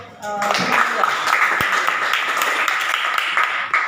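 A classroom of students clapping together during a lesson, a dense burst of hands that starts after a short voice and continues steadily.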